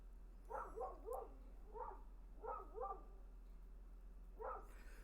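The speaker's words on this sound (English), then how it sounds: "Dog's outside barking in the yard." A dog barks outside in a yard in short clustered bursts of two or three yaps, spaced across several seconds at a moderate distance, with no talking over it.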